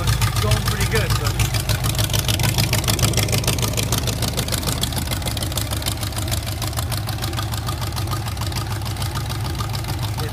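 A 1979 Lincoln Continental bash car's carburetted 305 V8, fed by an electronic fuel pump, idles steadily and loudly up close, a continuous low rumble throughout.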